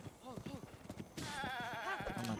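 Goat bleats in the Zelda Breath of the Wild video game: a few short, wavering cries, fairly faint, with game music and a louder electronic tone joining halfway through.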